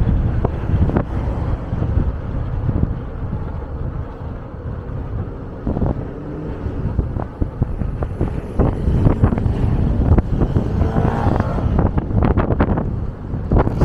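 Strong wind buffets the microphone on a sunny, windy day along a street in Maspalomas, Gran Canaria, a steady loud roar with repeated sharp gusts and rumbling bursts throughout and no talking.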